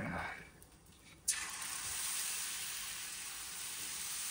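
Oil sizzles as it is poured over batter spreading on a hot pan, a sudden bright hiss that rises sharply and then holds as a steady frying crackle, with quiet voices nearby beforehand.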